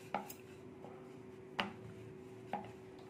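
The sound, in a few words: rolling out paratha dough with a rolling pin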